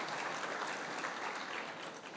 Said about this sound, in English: I require a round of applause for Kulin, Shah and Harsha Agarwal